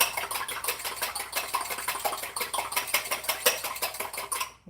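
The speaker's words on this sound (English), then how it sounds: "you've beaten all the albumin, which is the white part of the egg" Egg whites beaten hard in a bowl in the sink, a rapid rhythmic clatter of whisk or utensil against the bowl, busy and continuous with fast repeated ticks, close up and without talking.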